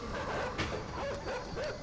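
Dogs in the video game Inside bark and yip repeatedly, with whimpering between the barks, at moderate volume over a muffled game background.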